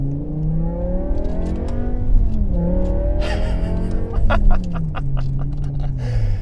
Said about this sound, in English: Setting off in the 2008 BMW M5.